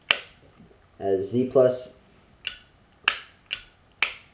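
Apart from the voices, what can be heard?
Zippo lighter lid clink, original and Z Plus insert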